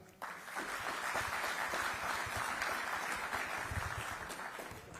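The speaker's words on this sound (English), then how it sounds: "Can we give him another round of applause?" Sustained applause from a summit audience at an ICT conference, dense clapping that starts abruptly and holds steady for several seconds.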